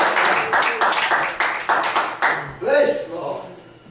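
A church congregation at a Pentecostal Sunday night service claps hands in praise, with a rapid burst of many clapping hands in steady rhythm that fades as a voice speaks near the end.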